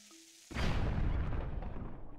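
A bomb explosion in the video game Zelda: Twilight Princess bursts in suddenly as a loud boom and rumbles on without fading for the next couple of seconds.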